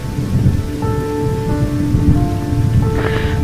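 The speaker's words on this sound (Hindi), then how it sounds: "बाहर बारिश हो रही है" Steady rain hisses throughout a cartoon, with soft sustained musical tones layered over the downpour.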